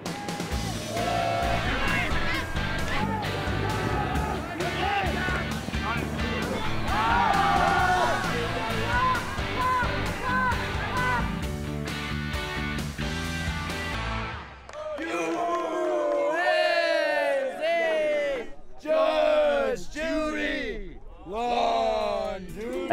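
UNC's Darkside ultimate frisbee club team shouts a sideline cheer. A thick, loud din gives way to several voices chanting together in rising and falling bursts.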